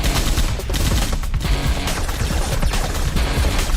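Dense gunfire sound effect in a Transformers audio drama battle, a continuous loud fusillade of rapid machine-gun bursts and shots filling the whole stretch with no voices.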